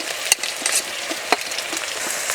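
Fried potatoes and slit green chillies, with ginger paste, salt and turmeric, being stirred in a pan: sizzling frying hiss with a few sharp spoon scrapes and clacks, close and fairly loud, no talk.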